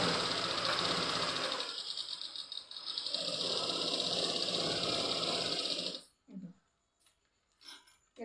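An electric sewing machine stitches thread piping in a fast, close rattling run for about six seconds, then stops; a few faint clicks and handling sounds follow.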